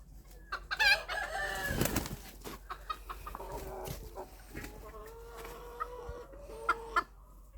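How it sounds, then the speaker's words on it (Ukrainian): A young rooster clucks in a run of short calls, with a louder burst early on, then irregular clucks fairly close by over a low farmyard background. "Це півень молодий"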